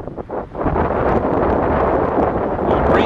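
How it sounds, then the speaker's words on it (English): Wind blows steadily across Watson Lake, a reservoir among pines south of Prescott, roaring loudly against the microphone as a broad, constant rush with no talk. "A little breezy today."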